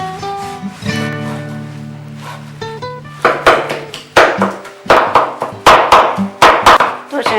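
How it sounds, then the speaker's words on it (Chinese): Meat being chopped with a knife on a board while making Hakka radish stuffed with meat, a run of sharp, close, rhythmic thuds after a brief musical passage. "剁成这样就可以了"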